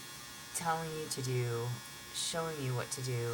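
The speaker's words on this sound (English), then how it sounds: "I got a new dryer a couple months ago, and there's not a way to turn off this fucking buzzer" A new clothes dryer's buzzer drones in repeated steady electronic tones, each lasting about a second, running under and between a person's speech.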